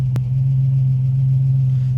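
A classic Ford Capri engine idles with a steady, close, low droning hum that holds even throughout, with one brief sharp click near the start and no voices.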